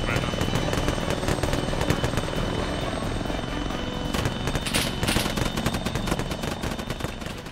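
Gunfire in an Arma 3 battle between Norwegian special forces and Russian troops, sounding as a dense, continuous rattle under a loud helicopter rotor drone, with sharper bursts cracking near the end and voices talking over it.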